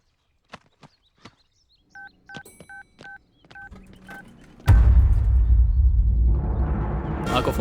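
A telephone gives a run of short, evenly spaced paired electronic beeps after a few sharp clicks. A sudden loud, dense burst of noise follows and drowns everything out.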